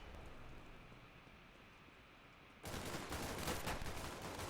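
Gunfire in the video game CSGO erupts abruptly into a dense, loud, continuous burst of rapid shots after a stretch of quieter hissing background.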